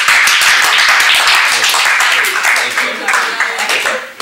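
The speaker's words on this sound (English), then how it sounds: "Pretty good round of applause." Loud, close audience applause after a Kool-Aid presentation demonstration, many hands clapping briskly for a few seconds, tapering slightly toward the end.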